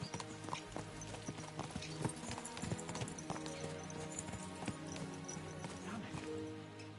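Horses gallop in the video game Kingdom Come Deliverance 2, a steady rapid clip-clop of hooves with occasional snorts, close and continuous under a busy game mix.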